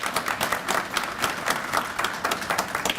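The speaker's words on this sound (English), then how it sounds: "make sure that people give you a round of applause for what you have" Applause at a police valor award ceremony, a crowd clapping steadily with a rapid, even patter that holds at a moderate level throughout.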